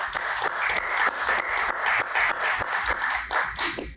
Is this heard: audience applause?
yes